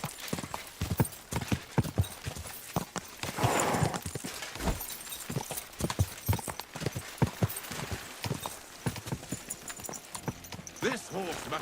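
Horse hooves clip-clop in a brisk, steady rhythm in the video game Kingdom Come Deliverance 2, close and clear, with voices talking over parts of it.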